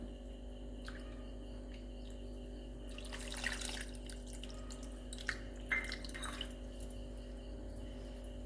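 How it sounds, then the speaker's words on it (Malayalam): Tamarind is squeezed by hand into water for a fish curry: quiet wet squishing and gentle sloshing with soft drips, close and faint over a low steady hum. "അതിനെ ഒന്ന് നമുക്കിതിൽ പിഴിഞ്ഞ് ചേർക്കാം. ഇത് വാളം പുളി തന്നെയാണ്."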